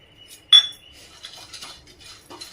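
Pumpkin seeds being roasted in a pan, stirred with a metal spoon, giving a sharp clink followed by faint scattered scraping and rattling, quiet and close.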